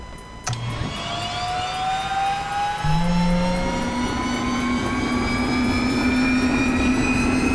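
In X-Plane 11, a Carenado PC12 turboprop starts up: a click, then a rising whine climbs steadily in pitch as the engine spools, with a deeper hum building beneath it, loud and continuous.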